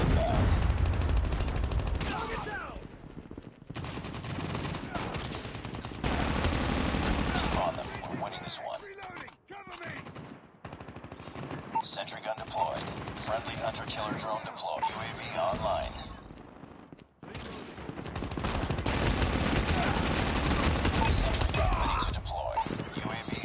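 Sustained automatic gunfire from a sentry gun and other weapons in the mobile shooter Call of Duty Mobile, with dense bursts and brief pauses, loud throughout, under excited talk from players.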